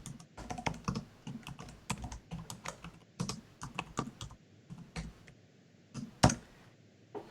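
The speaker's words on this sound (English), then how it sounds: "now I will actually type something here." Typing on a computer keyboard at a desk, bursts of close, crisp key clicks in an uneven rhythm with short pauses, a few louder taps standing out, and no talking.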